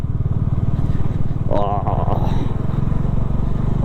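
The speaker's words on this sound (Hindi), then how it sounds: "ये देखो बाइकर्स आ रहे हैं, अब भी आ रहे हैं, कंटिन्यू आ रहे हैं" Motorcycles ride along a rough mountain road on the way to Tungnath, a loud, steady engine drone close by, with a brief rising whine from a passing bike midway.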